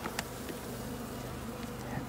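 Dense, steady buzzing of many honey bees at an opened hive after winter, filling the air close by with a few louder bees passing near, no talking.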